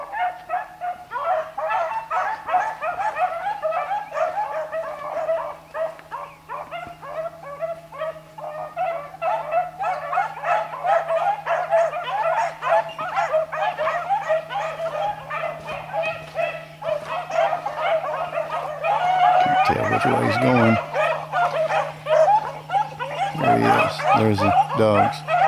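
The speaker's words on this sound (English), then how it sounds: "Dogs." Several dogs bark, yip and whine excitedly outdoors, the barking loud and continuous and building to sharper bursts toward the end, with a steady hum underneath.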